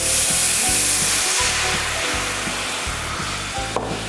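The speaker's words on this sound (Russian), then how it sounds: "Мы добавляем красное вино на сковородку." Loud, crackling sizzle of red wine hitting a hot frying pan for a sauce, with steady bubbling and a faint metallic clink near the end.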